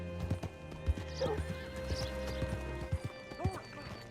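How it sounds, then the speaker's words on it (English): In the Red Dead Redemption 2 video game, a horse clip-clops at a slow walk with irregular hoof thuds and gives a short whinny partway through, set against a quiet, steady ambient background. "Hitch your horse up here."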